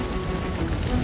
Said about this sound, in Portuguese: Milhares de pedras de gelo gigantes caem sobre o Egito.